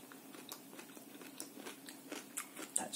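Fermented Jerusalem artichoke being chewed up close, a quiet run of crisp crunches and bites over about three seconds.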